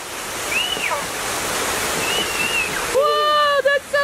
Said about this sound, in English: I'm gonna see the water shoot first.